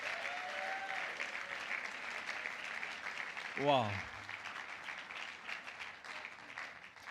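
An audience at a Port Harcourt tech gathering applauds as a foundation president is introduced, a dense, steady wash of clapping throughout with a single voice exclaiming briefly partway through.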